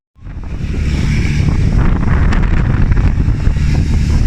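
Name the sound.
strong wind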